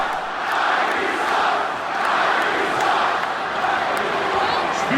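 A Boston Celtics arena crowd chants against Kyrie Irving, a dense roar of many voices rising and falling in a steady rhythmic pulse.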